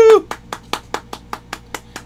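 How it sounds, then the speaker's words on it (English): A short round of applause: about nine evenly spaced hand claps, near and fairly loud, after a brief voice. "Round of applause."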